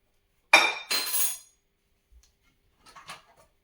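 A knife, fork and plate being set out in a kitchen before cooking bacon and eggs give two sharp, bright clinks close together, then a few fainter light taps after a pause.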